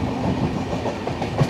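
The Mysuru–Thiruvananthapuram North Express rolling along rails, a loud steady rumble with rhythmic clickety-clack of wheels over joints, heard from on board.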